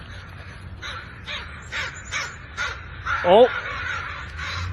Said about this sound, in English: See, the crows want to attack it, eh?